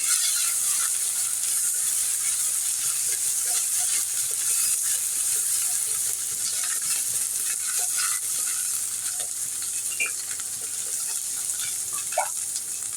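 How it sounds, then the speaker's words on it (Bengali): Spice paste of ginger-garlic paste, chili, turmeric and salt fries in a pan for a fish curry, a steady close sizzle with scraping stir strokes running throughout, no talk. "মশলাটা আমি ভালো করে কষিয়ে"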